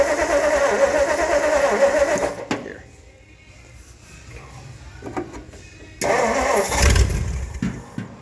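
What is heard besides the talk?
old truck engine starting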